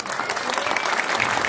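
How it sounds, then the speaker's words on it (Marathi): Loud, dense audience applause fills the whole stretch at a children's drama program, steady and close, greeting a Mrs India International title winner as guest. "जोरदार टाळ्या वाजवायच्या सर्वांनी"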